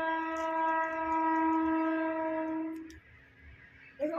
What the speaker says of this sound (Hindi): पीछे आपको ट्रेन की आवाज़ सुन रही होगी